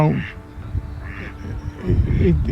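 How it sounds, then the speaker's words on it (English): A duck quacks by a fishing lake at a match fishery, with several raspy calls in bursts at the start and again near the end, fairly close, over low outdoor background noise. "he's the laziest duck in the world because he"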